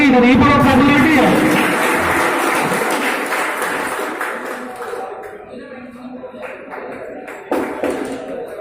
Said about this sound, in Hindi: अरे भाई जोरदार तालियां अब्दुल करीम की